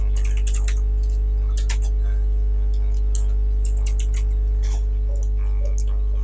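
Fingers type on a computer keyboard, producing irregular bursts of crisp, close key clicks with short pauses between them, all over a loud, steady electrical hum.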